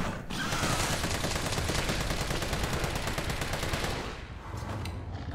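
Gunfire in the video game Resident Evil 3 Remake, a dense continuous burst of rapid loud shots roaring for about four seconds, then easing off into lighter crackling.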